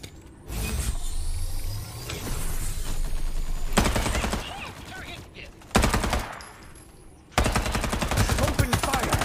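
Automatic gunfire in the video game Farlight 84, loud sustained bursts that stop and start several times, with gaps of softer game ambience between them.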